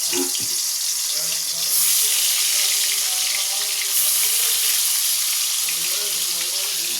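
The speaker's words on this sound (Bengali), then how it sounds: "কড়াই তেল দিয়ে দিয়েছি, এবার মাছগুলো ভেজে নেব।" A loud, continuous hiss of catla fish frying in hot oil in a kadai, close up, with faint voices and tonal background sounds underneath.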